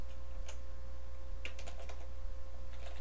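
Typing on a computer keyboard while writing Java code, a steady stream of close, crisp key clicks with short bursts of faster keystrokes over a constant electrical hum.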